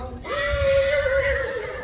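A Tori breed mare gives a single loud, sustained whinny lasting over a second, close to the microphone with some low rumbling background noise.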